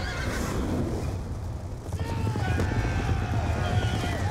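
In the Call of Duty: Black Ops II video game, a horse neighs loudly and up close, followed by galloping hooves and rumbling battle noise. A voice is also heard over the action.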